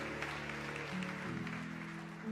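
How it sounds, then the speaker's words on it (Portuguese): Soft congregational clapping at a women's church conference, a faint, steady patter of applause with sustained tones from music or an organ running underneath. "Aplauda o nome do Senhor"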